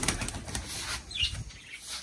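A female pigeon beats its wings in a short flurry of close, soft flaps while being caught by hand.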